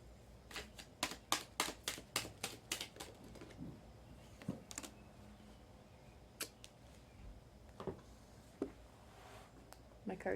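Tarot cards are riffled and shuffled in a quick run of crisp flutters, then slower scattered card snaps and shuffles, close and fairly faint.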